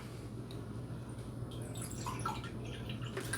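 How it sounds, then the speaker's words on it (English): Cold refrigerator water pours into a liquid measuring cup, a faint steady trickle and light splashing that stays low under a constant background hum, with no voices. "So I'm going to pour in a half a cup of, and this is cold water from the refrigerator."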